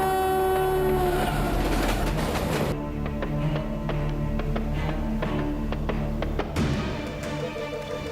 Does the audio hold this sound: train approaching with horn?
yes